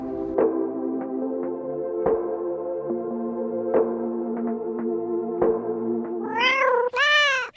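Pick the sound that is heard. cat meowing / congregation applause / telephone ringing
cat meowing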